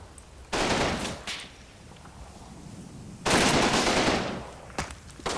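Two bursts of machine-gun fire from a drum-magazine gun, the first about three seconds long and the second longer and louder, each a rapid stream of shots, with a few single shots near the end.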